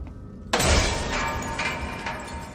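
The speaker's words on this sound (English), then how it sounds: "What broke through the glass?" Glass shatters with a sudden loud crash in Alien Isolation, a bright burst of breaking shards followed by several smaller tinkling fragments settling against a steady mechanical background hum.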